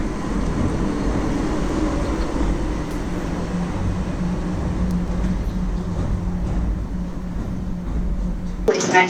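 The Disney PeopleMover train rolls steadily along its elevated track at roughly 10 to 12 mph, making a continuous broadband rumble and whir that holds constant, with a brief clatter near the end.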